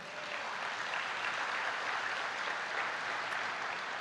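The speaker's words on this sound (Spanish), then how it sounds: "Dale un fuerte aplauso a Dios" A church congregation applauds together, a steady, dense wash of clapping that holds at an even level throughout, heard from within the crowd with no voices standing out.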